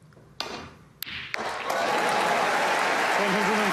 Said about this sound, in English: The crowd raised the roof.